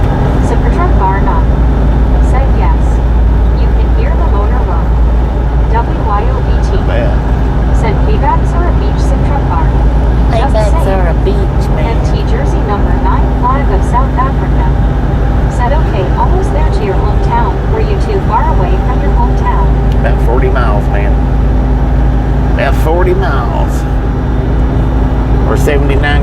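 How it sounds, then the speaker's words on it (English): A truck engine roars steadily and loudly while driving on a highway from Alabama toward Tennessee, a constant low rumble of road and motor noise under frequent talk. "You can hear the motor roar."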